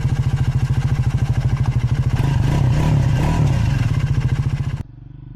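A 2024 Triumph Scrambler 400X engine runs close by with a steady pulsing idle, then swells into a louder, rougher rev before cutting off abruptly near the end.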